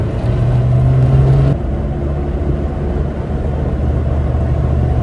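Suzuki Samurai engine droning steadily at about 4,500 RPM in fourth gear near 50 mph, a loud constant rumble heard from inside the vehicle with a slight tone change partway through and no talk.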